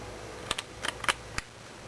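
Ratcheted hip joint of a Luts Kid Delf Kiwi doll body gives a few sharp, close plastic clicks, scattered singly and in small pairs over a quiet background.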